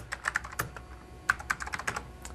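Typing on a computer keyboard while editing a word processor file in AppleWorks 4, quick irregular bursts of close, crisp key clicks with short pauses between groups.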